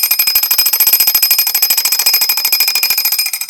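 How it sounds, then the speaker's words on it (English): A mechanical alarm clock bell on an Ingraham 8-day clock rings loudly and continuously, its rapid hammer strikes forming a fast, even metallic clatter close by. "This is what it looks like when the alarm's going off."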